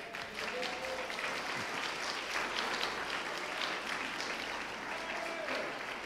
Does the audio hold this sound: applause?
yes